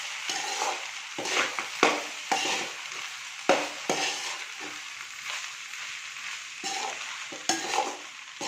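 Vegetable fried rice stir-fried over a high flame: a steady close sizzle broken by repeated scraping strokes of a spatula in the pan, with no talking.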